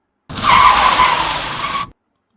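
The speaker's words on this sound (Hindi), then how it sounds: "उसके सामने एक गाड़ी आकर रुक जाती है" A car skids hard to a stop on a road, its tires squealing loudly and continuously for about a second and a half before cutting off into silence.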